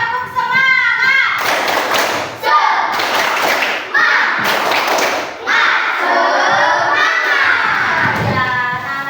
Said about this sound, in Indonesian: Kalau masih semangat, mana tepuk semangatnya? Tepuk semangat!